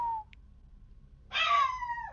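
A dog whines and whimpers indoors, a short high thin tone at first and then a louder, longer wavering whine with a falling pitch near the end, heard alone in a quiet room.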